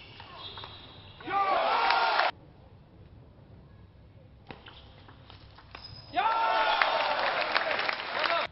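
Crowd applause at a 2014 Australian Open table tennis semifinal, arriving in two loud bursts, a short one and then a longer swell near the end, with quieter murmuring between them.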